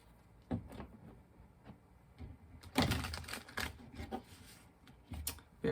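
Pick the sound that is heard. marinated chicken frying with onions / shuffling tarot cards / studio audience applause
shuffling tarot cards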